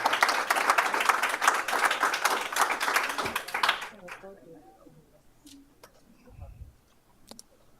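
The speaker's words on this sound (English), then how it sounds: "I would ask you guys to please hold your applause." An audience at a city commission meeting breaks into dense, fairly loud applause for about four seconds, then it cuts off abruptly, leaving a quiet room with scattered faint clicks and a voice.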